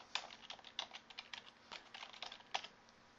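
Light, quick keystrokes on a computer keyboard while entering a link name in web design software, a soft irregular patter of clicks, close and quiet with no voice.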